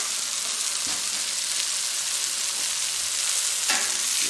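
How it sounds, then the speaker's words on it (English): Hash browns fry on a Royal Gourmet 36-inch flat top grill, giving a steady, close sizzle with faint scraping touches of a spatula. No one speaks. "I'm gonna give these hash browns about 2 more minutes."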